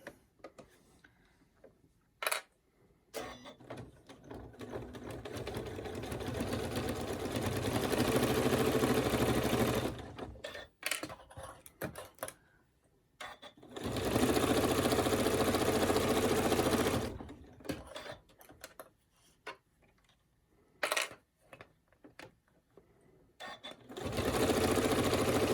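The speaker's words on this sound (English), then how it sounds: "we're just top sewing around here, around the front that we just sewed" A sewing machine top sewing around the front edge of a hooded poncho runs in several long loud stretches, separated by quiet pauses and small clicks and taps.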